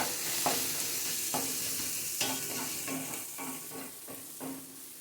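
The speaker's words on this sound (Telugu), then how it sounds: "పచ్చిదనం పోయే వరకు కూడా హై ఫ్లేమ్లో పెట్టి ఫ్రై చేయాలండి దీన్ని." Fresh coriander leaves fry on high flame in a pan, a close, continuous sizzle broken by regular scraping stir strokes about once a second.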